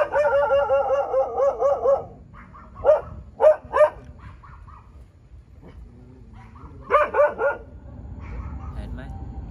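A dog in Pattaya, Thailand, barks in clusters: a rapid run of yipping barks, a few separate sharp barks, then another burst, all loud and close against a quiet background.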